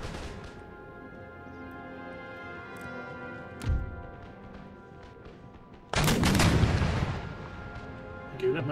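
Gunfire and artillery in the Empire: Total War battle game: a single sharp report, then a loud burst of cannon and musket fire erupting and rumbling on against a steady background of battle noise.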